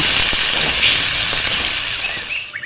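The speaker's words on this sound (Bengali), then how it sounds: "ধুয়ে রাখা আলু দিয়ে দিচ্ছি। একটু নেড়ে ছেড়ে দেব।" Washed potatoes dropped into hot oil while cooking a vegetable curry, giving a loud, steady broadband sizzle that eases off toward the end.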